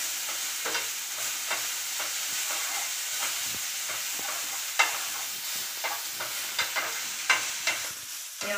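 Fenugreek leaves fry in a pan for a chutney, a steady close sizzle with scraping stirs and a scattering of sharper clicks from the spoon toward the end.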